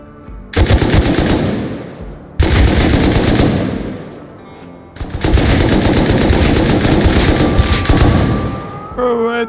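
A Tommy gun fires in the video game Rust in three long, loud automatic bursts with brief pauses between them. Each burst is a dense, rapid rattle of shots.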